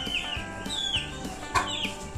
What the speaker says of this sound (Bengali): এদিকেও কিছু মুরগি আছে, এই যে এদিকেও কিছু মুরগি আছে